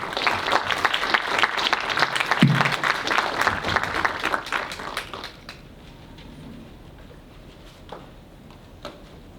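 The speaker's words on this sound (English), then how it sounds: "please give our candidates for at-large senator a warm round of applause as they enter the stage" A crowd applauds as candidates for at-large student senator walk onto a debate stage; dense, lively clapping fills the first five seconds, then thins to a few scattered claps and quiet room tone.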